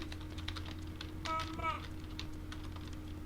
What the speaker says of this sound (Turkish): klavyenin tuşlarını karıştırdım